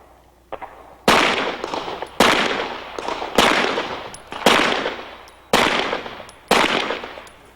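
Pistol gunshots at an IDPA shooting competition, six sharp loud reports at roughly one-second intervals after a faint earlier shot, each with a short ringing decay outdoors.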